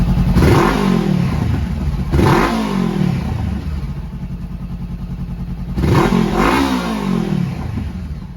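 A Honda CBR500R motorcycle engine idles while warming up, a loud, close, steady thrum with periodic throttle blips that rise and fall every few seconds.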